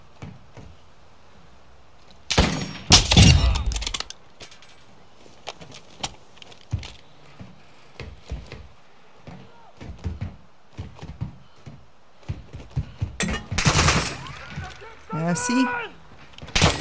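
Weapon fire in the video game MW2 DMZ comes as sharp loud bursts and scattered single shots over the stretch, with mechanical clinks between them and someone talking briefly.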